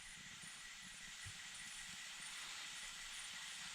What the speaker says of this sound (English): This is how we are controlling the flame of our stove.